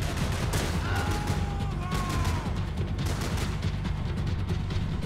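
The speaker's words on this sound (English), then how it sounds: "Who's shooting?" Gunfire in the video game Max Payne 3, a continuous rattle of shots mixed into a busy, loud game soundscape with a steady low rumble and a brief voice.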